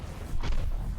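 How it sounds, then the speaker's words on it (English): A puzzle grate in the video game The Witness gives off a fireworks-like noise, a soft muffled boom swelling briefly mid-clip over a low rumble. "It totally makes a fireworks noise."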